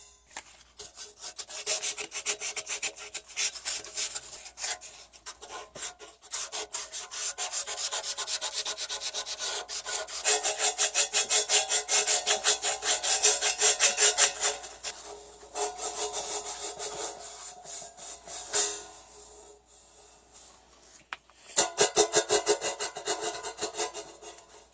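Sandpaper rubs against a crash cymbal that was cracked and drilled out, giving a steady gritty scraping close up in long continuous strokes with short pauses, and no talk over it.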